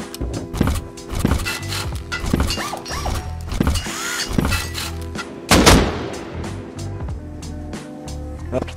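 Rocket launcher fired during a raid defense in Rust Console Edition, loud booming blasts and impacts landing repeatedly amid gunfire and mechanical clatter, with people talking over the chaos.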